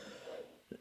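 A single short cough, soft and close, coming after a faint breathy murmur.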